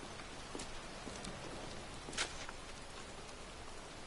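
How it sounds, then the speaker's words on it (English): Faint, steady rainfall in the video game Heavy Rain hisses evenly throughout, with a few soft drops and one brief sharper patter standing out. "It's cold. It's raining. I'm standing outside getting soaked."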